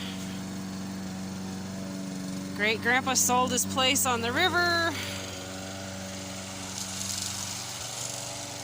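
Steady mid-pitched drone of a lawn mower running nearby at a rural house on a river, continuing throughout under a person speaking.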